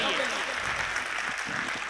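An audience at a national poetry recital held for Kargil Vijay Diwas gives a steady wash of applause. It runs throughout the clip while someone speaks over it.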